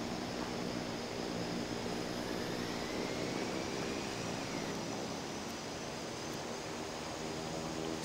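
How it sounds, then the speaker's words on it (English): Boeing 787 airliner taxiing across dirt in the Infinite Flight game, a steady, continuous engine roar and broadband rush holding at even loudness throughout, with no talking. "who we got taxiing through the dirt. in a 787."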